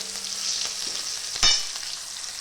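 Onions sizzling in a pan over lowered heat, browning toward a reddish color: a steady close frying hiss with one brief louder stir or scrape partway through, no voices.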